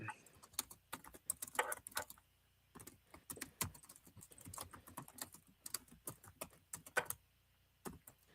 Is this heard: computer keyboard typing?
yes